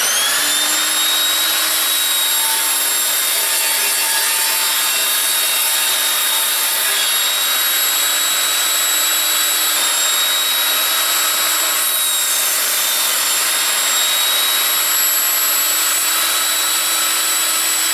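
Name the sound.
Evolution Rage 5-S saw cutting through tacks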